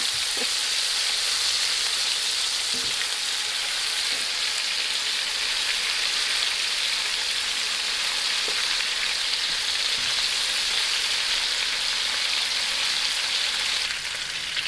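Oxtail pieces browning in a pot on a stovetop give off a steady, loud, continuous sizzle and crackle like frying, with a few faint knocks of stirring and no talking.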